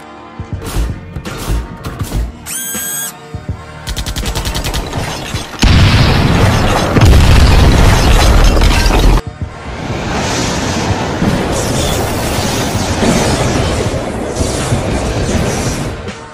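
Distant robot gunfire and explosions come as heavy booming bursts and crashes, loud and sustained, over a dense rumbling backdrop with no talk.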